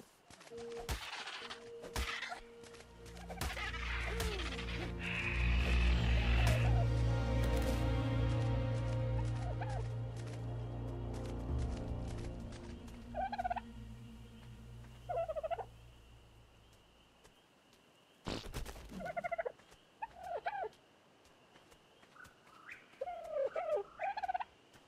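A dodo-like creature in ARK: Survival Evolved gives a loud, warbling gobble that swells and then fades. Shorter chirps and clucks follow in scattered bursts, and a soft voice speaks once.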